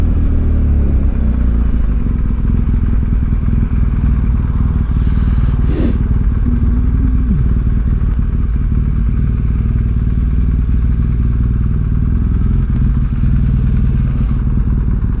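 BMW F750GS motorcycle engine idling steadily and loud throughout in Wollaston, Northampton, a continuous low rumble with a brief clatter near the middle, no talk over it.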